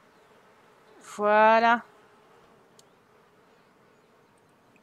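Bees buzz in The Sims 4 garden hives, a loud, dense drone lasting under a second amid quiet game ambience, with a brief spoken word after it.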